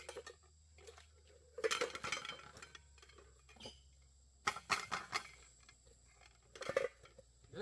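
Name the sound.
cooking pot being banged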